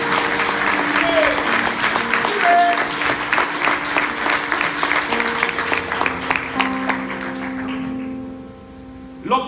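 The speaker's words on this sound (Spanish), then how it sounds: "Y aplausos si van a aplaudirlo." A church congregation applauds during a sermon, loud sustained clapping lasting most of the stretch over sustained organ-like tones, fading near the end into quiet with a brief bump.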